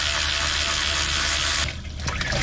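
Distilled water flush draining from the cooling system of a 2003 Cobra, a loud steady gushing splash of pouring water that briefly thins and sputters before surging again.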